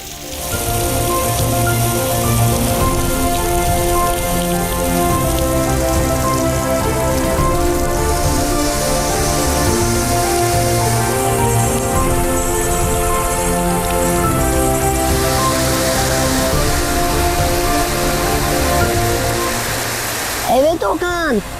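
Steady rain pours down on a wooden house in a children's cartoon setting, a constant close hiss under music and animated voices talking throughout.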